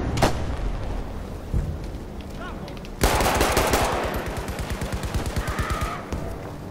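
Gunfire from a full-auto Trench Carbine in Battlefield V, loud and close: a few single shots, then a rapid sustained burst of evenly spaced rounds with other battle noise behind.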